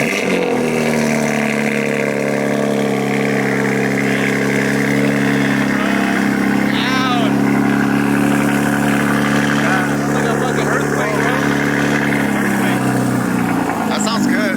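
A BMW G82 M4 fitted with a titanium single midpipe exhaust runs loud and close outdoors, its deep engine note swelling and easing with a few throttle changes, while people talk over it.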